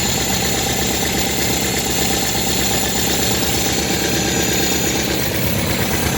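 Engine of a 1972 MGB sports car idling at about 1000 RPM after a carburetor adjustment, a continuous close rumbling and vibrating tone with steady mechanical noise and no speech.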